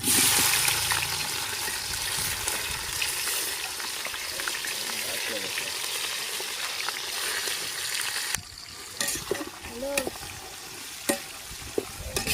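Onions frying in hot oil for Andhra biryani, a steady close sizzle with stirring scrapes, then quieter after a sudden drop with a few clinks and bubbling.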